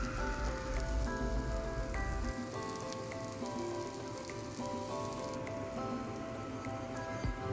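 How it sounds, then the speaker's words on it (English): Tindi (ivy gourd) and slit green chilies frying in a spoonful of oil in a pan, a steady soft crackling sizzle that runs throughout without any talk. "Fry them until the tindis become golden brown."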